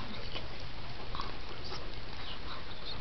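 A dog whimpers and sniffs close by, soft, brief whines and snuffles scattered over a steady low indoor hum.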